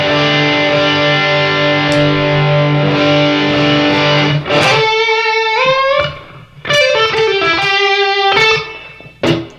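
Electric guitar run through a Cleveland Music Company pedal with distortion engaged in its fat-sounding mode, a loud sustained chord ringing out followed by a few punchy, gritty strummed chords with short gaps between them.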